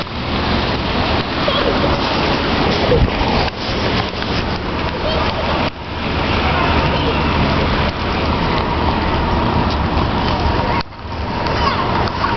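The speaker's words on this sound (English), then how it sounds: "It is raining." Steady heavy rain pours down outdoors, a dense hiss of drops splattering on surfaces that holds throughout, with brief voices over it.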